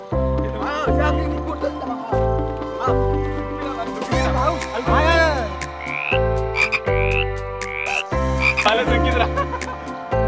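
Frogs croak loudly in a pool, with deep, rhythmic, overlapping calls pulsing close by and higher chirps and a voice mixed in.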